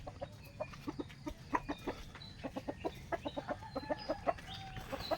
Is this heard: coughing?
no